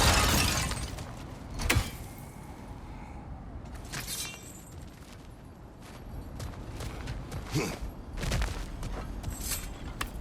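Objects smashed apart in God of War Ragnarök, with sharp crashing and shattering bursts of breaking material scattered through a steady ambient rumble, several impacts of varying loudness.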